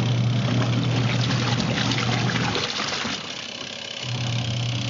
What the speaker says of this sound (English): I'll turn it on one more time to demonstrate the washing action